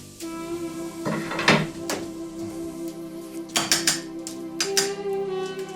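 Metal cookware clatters and knocks a few times, with sharp clanks of a small sauté pan being set down on the stove amid a steady kitchen hum.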